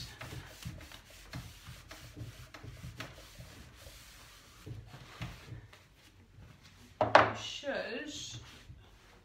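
A rag rubs chalk paint wax onto furniture in soft, irregular scuffing strokes, faint and close, while a person talks quietly over it; a sharper burst of friction noise stands out near the end.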